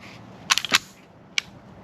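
A Sig P228 pistol's trigger resets with a quick cluster of sharp, close mechanical clicks, followed by one more isolated click after a short pause.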